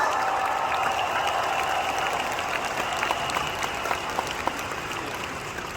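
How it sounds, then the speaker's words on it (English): A seminar audience applauds together, a steady dense wash of clapping that carries on throughout without any voice on top. "Can we all give ourselves a round of applause today to all the successful people in the house?"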